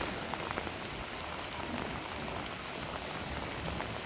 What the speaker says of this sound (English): the rain that was coming from London has now finally hit